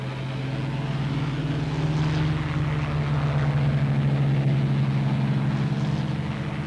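Propeller engines of approaching bomber aircraft drone loudly and continuously, a deep steady hum that swells slightly and holds without any voices.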